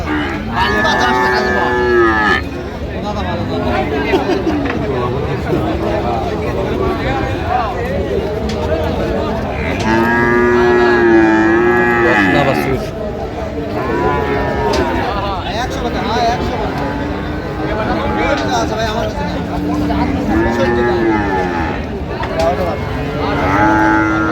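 Friesian and crossbred heifer calves moo repeatedly at a busy cattle market, loud drawn-out calls rising over a constant crowd hubbub with people talking nearby.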